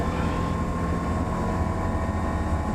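A Bristell light aircraft's engine at full throttle for takeoff, a steady loud drone with propeller hum, continuous and close throughout with no talk.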